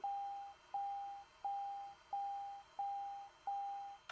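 A car's warning beep repeats six times at an even pace after the car is turned off, each tone holding about half a second before a short gap, clear against quiet background.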